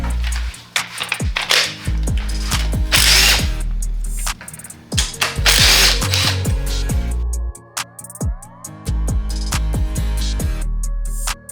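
Tools work on the top cover of a truck transmission, giving a loud, busy run of power-tool whirring with ratchet clicks and sharp metallic pings and clanks throughout.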